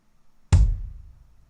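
A single punchy drum hit lands after a short silence, with a sharp attack and a low, booming tail that fades out quickly.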